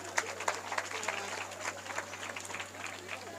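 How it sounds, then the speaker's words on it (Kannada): Scattered applause from an audience at a religious discourse, a dense patter of claps sustained for a few seconds at moderate distance, with faint voices mixed in. "ಚಪ್ಪಾಳೆ ಹೊಡ್ರಿ, ಕೈ ಅದಾವಿಲ್ಲ"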